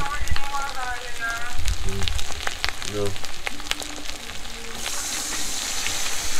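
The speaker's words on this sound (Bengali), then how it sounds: "মাংস সিদ্ধ হয়ে গেছে, এখন ঝোল দেবো।" Boiled duck meat sizzling and bubbling in a pot over a village clay stove as gravy goes in, giving a dense, crackling frying hiss throughout, close and loud, with faint background voices.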